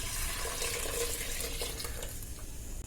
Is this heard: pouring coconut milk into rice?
yes